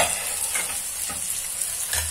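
Spiced dal ingredients dry-roasting in a pan give off a steady, close sizzle with soft stirring scrapes throughout and no voices.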